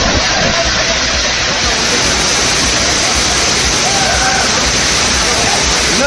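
Loud, steady roar of the Hogenakkal waterfall on the Kaveri river, a dense continuous rush of falling water filling the whole scene without letup, with tourists bathing in it.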